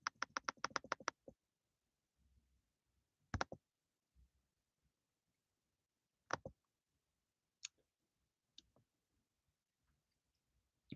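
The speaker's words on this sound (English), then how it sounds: "no matter how many times I click on this" A rapid burst of about eight sharp computer mouse clicks, followed by sparse single clicks spaced a few seconds apart, close and crisp in an otherwise quiet room.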